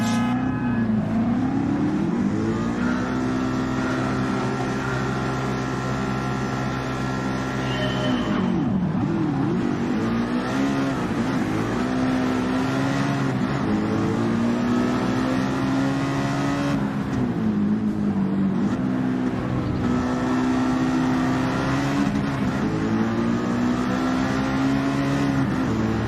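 Race car engines in Gran Turismo 7 drone continuously, rising and falling in pitch with gear changes and acceleration over a long stretch, loud and steady.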